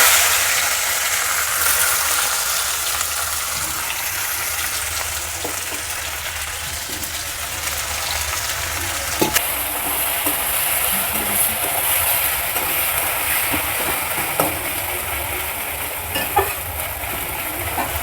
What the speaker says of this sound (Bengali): তো আমার তেলটা গরম হয়ে গেছে, আমি এবার মাংসর পুরটা বানিয়ে নেব।